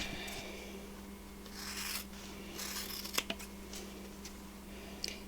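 Scissors rough-cutting apart jump rings for earrings, a quiet close-up of sparse snips and rubbing handling noises over a low steady hum.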